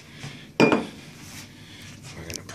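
A single clinking knock of glass set down on a hard surface, close and bright, followed by faint rustling.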